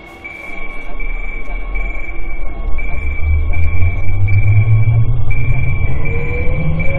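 An Incheon Subway Line 1 train bound for International Business District pulls away and speeds up, with a rising motor whine, a steady high tone and a loud rumble of wheels that builds and holds.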